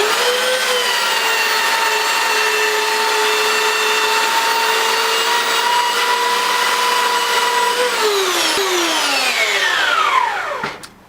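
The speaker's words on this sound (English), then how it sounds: "The way we're going to do that is with the belt sander and just a lump of wood on here as a backstop." Belt sander running steadily with a tonal whine while small wooden box pieces are pressed against it, loud and close, then the motor winds down and stops at the end.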